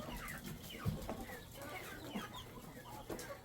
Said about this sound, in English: what's going on with these chickens